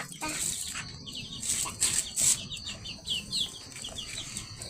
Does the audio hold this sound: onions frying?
no